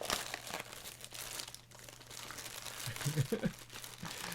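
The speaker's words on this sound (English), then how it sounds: "I do apologize for the much rustling. I may have to do a bit of plastic bag surgery here." Plastic bag packaging around a NovelKeys Space Cadet deskmat crinkles and rustles continuously up close, with a few sharper crunches near the end and a low steady hum beneath.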